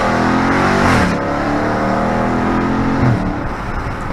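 A Dodge Charger Daytona 392 revs loud and close on the street, its engine note climbing, dropping, then surging again for a second rev.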